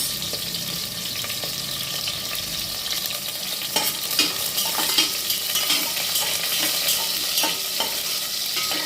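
Onions and tomatoes sautéing in a pan for a rice-and-lentil dish, steady bright sizzling with repeated spoon scrapes and clinks against the pan, close and continuous with no one talking.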